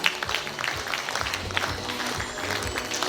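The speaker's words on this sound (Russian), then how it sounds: "Не жалеем аплодисменты, они достойны бурных оваций" An audience claps steadily at a children's music school concert, a dense, even roar of applause that holds through the whole stretch with a faint voice mixed in.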